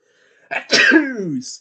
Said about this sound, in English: The only things you get to hear on a live stream, someone sneezing.